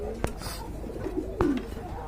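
A pigeon at a Bangladeshi pigeon market gives a soft, low coo about midway, briefly rising and falling, set against a murmur of background noise with a couple of sharp knocks.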